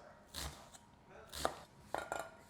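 A kitchen knife dices an onion on a cutting board with a few separate, close chopping taps, and faint speech may be present.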